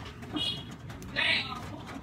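Pet pigeons coo nearby, two soft throaty calls over faint room noise, with a voice speaking in the background.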